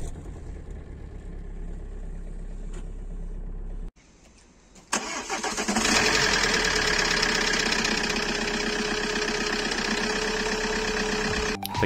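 A Bosch 2.2 kW start-stop starter cranks a 2.0 CDTi diesel in an Opel Insignia at minus six degrees. Low idle hum drops out briefly, then the starter whirs and the engine catches into a loud, steady diesel rattle.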